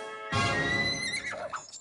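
A cartoon horse gives one loud, close whinny, a bright quavering neigh that starts abruptly and breaks into a fluttering, wavering tail. No one speaks.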